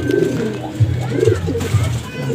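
Domestic pigeons in a loft coo in low, rolling bursts, several birds overlapping close by with soft rustling between calls.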